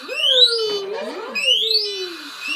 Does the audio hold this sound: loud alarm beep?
yes